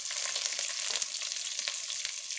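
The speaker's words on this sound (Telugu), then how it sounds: "హోల్ గరం మసాలాతో ఇవన్నీ కొంచెం ఫ్రై అయ్యే వరకు ఉంచేసి ఆనియన్స్ పచ్చిమిర్చి వేసుకున్నాం" Onions, green chilies and whole garam masala frying in ghee for biryani, giving a continuous bright, crackling sizzle at close range with no one speaking.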